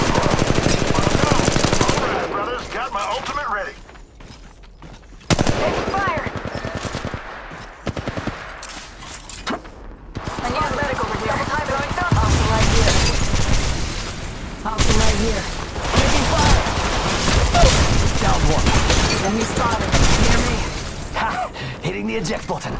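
Rapid automatic gunfire and bursts of shooting from the mobile battle royale game Apex Legends Mobile, loud and dense, with pauses and occasional booms, mixed with game voice callouts throughout.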